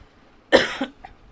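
A single harsh cough bursts out close by, followed by a faint, short second sound, with quiet around it.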